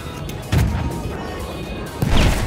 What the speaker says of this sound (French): Putain, la grenade.